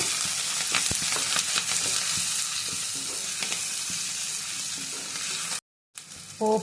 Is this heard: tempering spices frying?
yes